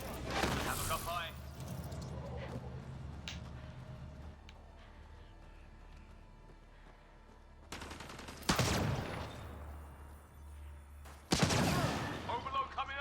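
Sniper fire in Mass Effect: a few heavy, echoing gunshots spaced seconds apart over a low ambient hum, with loud bursts near the middle and end and some talk nearby.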